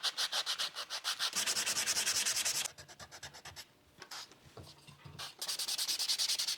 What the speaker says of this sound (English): ready to do some fine sanding